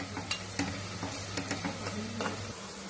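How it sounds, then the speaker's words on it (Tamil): Onions for mutton biryani sauté in a pan until brown, giving a constant loud sizzle with occasional spoon scrapes and a low steady hum beneath. "வெங்காயம் நல்லா பிரவுனா வர்ற அளவுக்கு வதக்கிக்கணும்."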